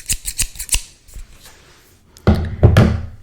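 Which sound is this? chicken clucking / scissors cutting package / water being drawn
scissors cutting package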